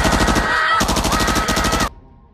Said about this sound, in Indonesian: Si bocah tersebut nekat melepaskan tembakan menggunakan senjata mesinnya milik militan.